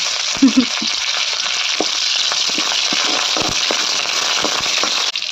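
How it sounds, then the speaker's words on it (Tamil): Curry leaves hit hot oil that already holds mustard seeds, setting off a loud, continuous sizzle with sharp crackles and spits near the start, steady and close throughout. "இப்போ கருவேப்பிலை சேர்க்குறேன்"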